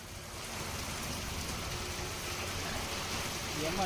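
Steady rain falls on coastal villages of Gir Somnath in Gujarat, a continuous even hiss of drops on surfaces with no pauses, moderately loud and filling the whole stretch.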